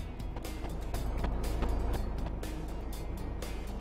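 Heavy dump truck engine in the construction video game Machine World 2, a steady low diesel rumble with rising and falling revs, loud and continuous throughout with no talk.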